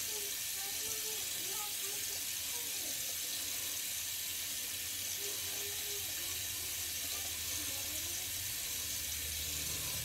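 Cold tap water running steadily into a bathroom sink during a wet shave, a continuous broadband splashing hiss lasting throughout, close and even, with occasional faint clinks.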